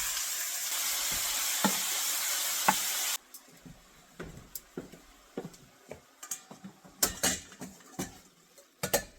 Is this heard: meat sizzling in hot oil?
yes